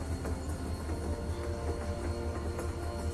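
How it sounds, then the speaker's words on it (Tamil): A train in The Walking Dead video game: a steady rolling rumble with a faint clickety-clack rhythm, heard alone at a constant level. "ஆஹா, ட்ரெயின் ஓசைகள் ட்ரெயின் பயணங்களை ஞாபகப்படுத்துகின்றன."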